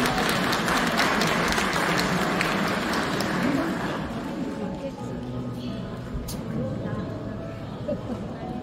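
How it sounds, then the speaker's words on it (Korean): Applause from wedding guests at a ceremony in Jincheon as the bride's mother steps up to the stage, a broad wash of clapping mixed with crowd murmur that gradually thins out. "박수로 환영해 주시기 바랍니다"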